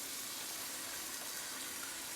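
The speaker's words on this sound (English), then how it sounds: "we're gonna go ahead and put it in here in the veggies so that it can simmer in. Go ahead and pour all of that in there." Teriyaki sauce poured into a pan of simmering vegetables for salmon pineapple bowls, a steady close liquid gush and sizzle that holds evenly throughout with no talking.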